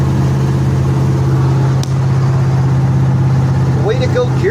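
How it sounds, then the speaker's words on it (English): A 1969 Ford F250 pickup with a 390 V8 and C6 transmission cruising on a freeway, the engine holding a steady low drone at around 2300 rpm, loud and constant from inside the cab, with a brief dip partway through. "If you can hear the engine's just purring at 2300"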